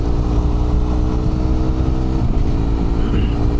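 A BMW F800R motorcycle fitted with a HealTech quickshifter rides along, its engine a loud, steady, close droning hum that shifts slightly in pitch partway through.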